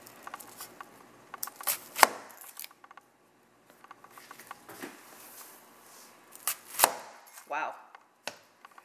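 Shun santoku knife slicing an onion on a board, quiet crisp cuts and a few sharp taps spaced irregularly against near silence.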